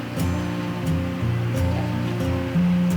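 Marble sponge cake batter is mixed with a steady, close swishing and whirring that shifts slightly in pitch. It continues without pause, with no talking.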